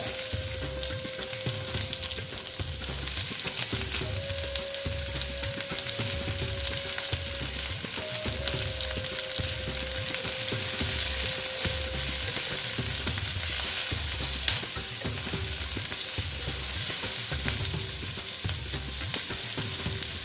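Chopped onion frying in hot oil for Afghani egg curry, a steady close sizzle running for the full stretch with a rhythmic low scraping of stirring throughout, no voices.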